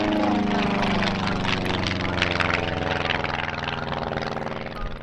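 The only flying Cosmic Wind racing aircraft passes at a Duxford airshow, its propeller engine droning loud and steady throughout with a rough, buzzing tone that swells slightly mid-pass.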